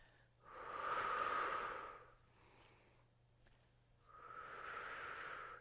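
Steady breaths during a resistance band workout on a mat: a long audible exhale, a quieter inhale, then another long exhale, close and moderately soft with no talking.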